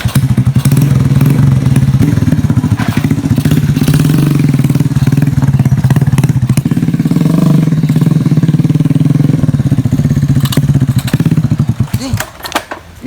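A motorcycle engine runs loud and steady at close range for about twelve seconds, a continuous low rumble that drops away near the end.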